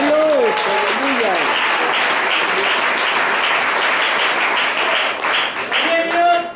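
A church congregation claps and cheers loudly and continuously during an anniversary service, with a voice speaking over the applause at the start and end.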